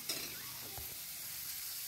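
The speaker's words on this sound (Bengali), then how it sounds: "এই যে মাছ, এটা ভাজা করব" Fish frying in oil in a kadai, a steady close sizzle with light stirring and a brief clatter near the start, no talking.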